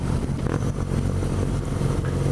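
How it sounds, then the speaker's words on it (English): A 2017 BMW R nineT Pure motorcycle ridden around town, its engine a loud, steady, close drone with slight surges, no speech. "It's a bike that you can flick around town, as you can see right now."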